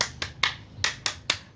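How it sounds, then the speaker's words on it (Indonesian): A group of women doing a rhythmic spirit clap during a training session. About six crisp, separate claps fall in a short patterned beat, close and clear, with no talk over them. "kita tepuk semangat dulu ya ibu-ibu"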